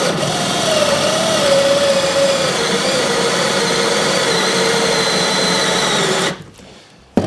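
A power drill bores into wood with a Forstner bit, giving a steady loud whine with a slowly falling pitch that runs for about six seconds, then cuts off abruptly.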